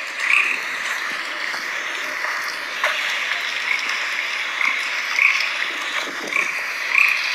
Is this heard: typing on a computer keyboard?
no